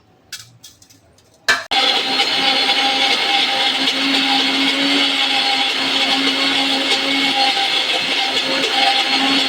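After a few clicks and knocks, a mixer grinder starts up and runs at a loud, steady whirring roar as it grinds cowpea chutney with rock salt, up close and without talk.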